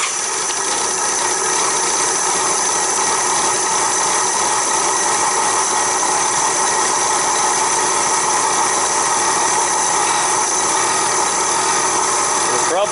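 A Honda GL1500 Goldwing, carburetors freshly cleaned, starts in a shop without the choke. The engine runs at a steady, loud, buzzing idle throughout, with a voice speaking over it.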